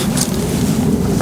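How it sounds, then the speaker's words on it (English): A right-to-left headwind gusts across an open disc golf course near the trees, a loud, steady rush buffeting the microphone throughout. "We've got a right to left headwind right now"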